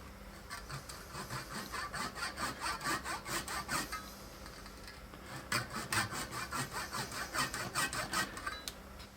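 A hand saw cuts 1/16-inch-deep kerfs while repairing a Roland FD-8 drum pedal. Quick, rhythmic rasping strokes come up close in two bursts, separated by a brief pause.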